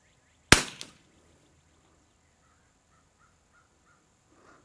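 A single sharp, loud rimfire rifle shot from a CZ452 Varmint or Savage MKII cracks out with a brief echo, followed by near silence and faint distant bird calls.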